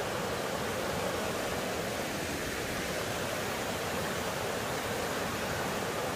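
A clear mountain valley stream rushes steadily nearby, a dense, unbroken wash of flowing water with no pauses and no voices.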